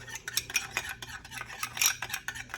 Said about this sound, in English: put just 2 or 3 drops of lime in that. And stir it around.